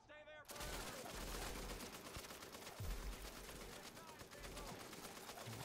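Sustained heavy gunfire from the video game The Division, dense overlapping automatic bursts and shots filling the whole stretch at steady loudness, with faint voices underneath.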